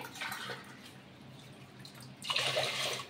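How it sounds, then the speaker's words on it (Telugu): Water pours into a pot for kodo millet and moong dal pongal, a faint trickling splash that swells to a louder, fuller gush near the end. "ఇప్పుడు 6 గ్లాసుల వాటర్ అయితే వేస్తున్నాను నేనైతే"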